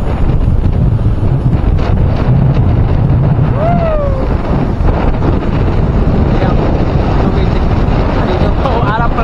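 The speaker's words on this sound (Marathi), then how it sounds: "प्रचंड वारा आहे." Strong monsoon wind buffets a microphone during a rainy motorbike ride from Pimpri toward Khandi Point. The roar is loud, constant and close, with faint squeaks and a brief voice underneath.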